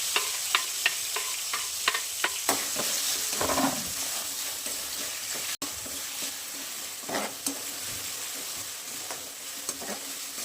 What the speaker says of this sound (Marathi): आता आपण ना कांदा टाकून घेणार आहे.